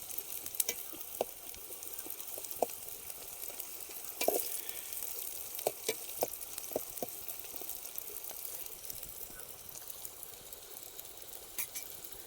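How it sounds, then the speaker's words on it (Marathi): Onions frying in a pan at a riverside cooking outing give a steady, faint sizzle with scattered small pops and crackles, and no one speaks. "थोडा म्हणजे लाल होऊन द्यायचा आहे थोडा पेटवायचा आहे कांदा हे बघा"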